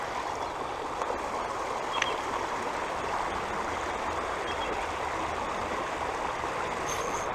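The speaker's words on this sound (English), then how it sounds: "I don't know if you can hear me over the rapids" River rapids at a trout fishing spot rush in a steady, loud, broadband roar of churning water with no other sounds standing out.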